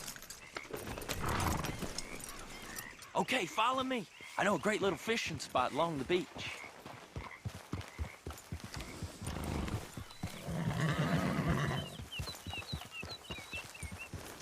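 Horse neighing and clip-clopping hoofbeats during a ride in Red Dead Redemption 2, mixed under steady game dialogue with someone talking over most of the ride and a whinny rising midway.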